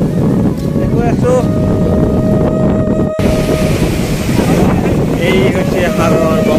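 Strong wind buffets the microphone on the Bay of Bengal seashore, a continuous roaring rush with the wash of the sea beneath it and brief voices over it.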